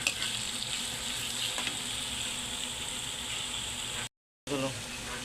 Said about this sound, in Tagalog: Halo-haloy lang natin idol.